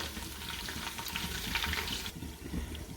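Mutton for nihari frying in a pan, a steady loud sizzle and crackle with stirring that eases off toward the end.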